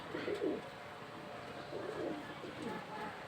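Soft, repeated cooing of a golden male pigeon in short throaty bursts, fairly faint against a steady low background hum.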